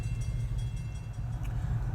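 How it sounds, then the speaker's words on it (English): A train passes near a waiting 2012 Ford F250 at a crossing, a loud rumbling low roar of rolling wagons that swells and wavers steadily with faint clatter above, no voices. "had to wait for the train to pass"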